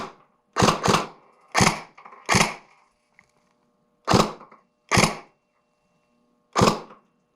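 Tokyo Marui SCAR-H recoil shock airsoft rifle firing single shots: seven sharp, close cracks with mechanical thumps, irregularly spaced with quiet gaps between.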